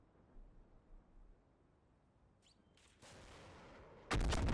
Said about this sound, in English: I think we just heard an explosion.